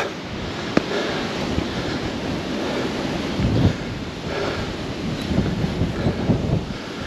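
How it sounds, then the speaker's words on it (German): Strong wind buffets the microphone on an open hilltop above a river valley, a continuous loud roar with gusts swelling and easing, heard alone with no voices. "jetzt gehen wir in den Wind"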